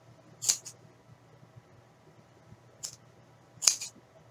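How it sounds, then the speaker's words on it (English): Scissors cut fabric strips in half for a snuffle pad, giving three crisp, separate snips spaced a few seconds apart against a quiet background. "I have a big pile of strips, and I'm just cutting them in half."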